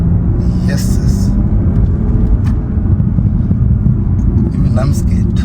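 BMW B58 engine rumbling and pulling hard under throttle inside the car, a dense low roar that holds steady throughout, with voices talking over it.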